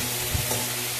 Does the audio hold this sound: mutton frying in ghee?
yes